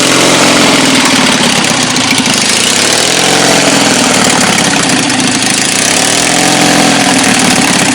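A 1997 Craftsman GT 6000 garden tractor with a Kohler 18 hp 691cc opposed-twin engine runs loud and close, a steady throbbing idle with slight carburetor surging, and no talking.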